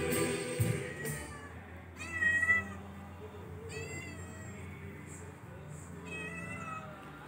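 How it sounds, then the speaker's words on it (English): A hungry, fearful street cat at a hotel in Pastida on Rhodes, Greece, meows several times in a row, with higher drawn-out cries among them. It is fairly close and clear, and there is no talking. "At the hotel, Linda got company by a hungry and fearful street cat"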